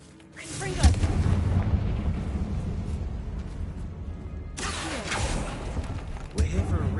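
The Confringo blasting spell explodes in the video game Hogwarts Legacy, with booming blasts and rumbling tails, one early, another a few seconds later and a third near the end, over dense game ambience.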